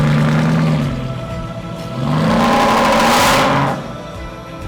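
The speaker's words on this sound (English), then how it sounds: "Engines come to life." Car engines in a morning road-trip convoy in Croatia start up and rev, one engine rising then falling in pitch over a steady engine drone, loud and near with no talk.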